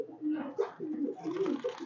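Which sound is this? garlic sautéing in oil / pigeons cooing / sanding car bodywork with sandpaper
pigeons cooing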